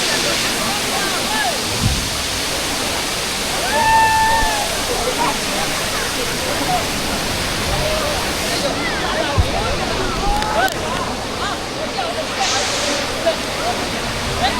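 Mallali waterfall in Karnataka, water plunging from a great height, a loud continuous roaring rush heard up close, with people talking over it.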